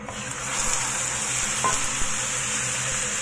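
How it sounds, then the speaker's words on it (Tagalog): Pork marinated in teriyaki sauce and mirin fries in a pan alongside onions, giving a steady, close sizzle with one brief stirring clink partway through. "I-fry lang natin yan hanggang sa maluto"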